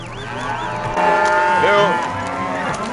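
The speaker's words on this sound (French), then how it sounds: "nous croisons un troupeau de vaches en transhumance" A herd of cattle on seasonal transhumance in Patagonia, driven by gauchos, moo loudly and close by, several overlapping calls rising and falling, with a faint background murmur.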